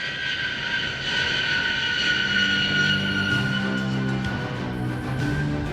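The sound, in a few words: Lockheed C-5A Galaxy cargo aircraft at an air show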